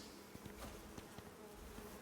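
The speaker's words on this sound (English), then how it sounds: "Get away from me, bees." Bees buzzing in the video game Icarus, heard inside a cave: a quiet, steady insect drone with small recurring swells, with no talking over it.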